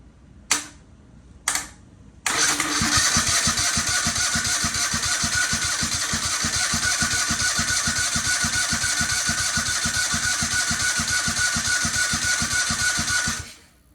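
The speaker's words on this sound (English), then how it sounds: "It's turning over." A Kohler small engine under repair is cranked over by the starter after two short bursts, then turns over in a steady rapid chugging rhythm for about eleven seconds, loud and close, before cutting off.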